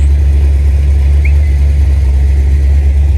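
A car engine idles after a Seafoam treatment, a steady deep low rumble close and loud, running evenly without revs or breaks for the whole stretch.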